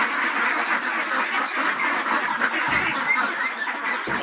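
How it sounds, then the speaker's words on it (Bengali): A large domestic duck quacks repeatedly and steadily at close range during feeding time, a dense run of loud, raspy calls with no pauses. "এটাই দেখেন আমার একটা বড় হাঁস।"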